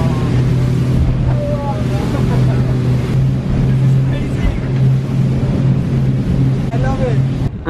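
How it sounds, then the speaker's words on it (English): A Pirelli speedboat running at full speed, around 40 knots, its engine a loud steady drone with a low tone, heavy wind buffeting and water rush, while people talk over it. "we're now on a Pirelli speedboat"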